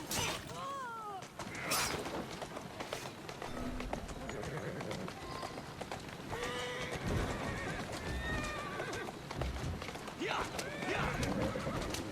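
A horse in the video game Assassin's Creed Syndicate whinnies repeatedly over galloping hooves and clattering game sounds, with a voice faintly present at times.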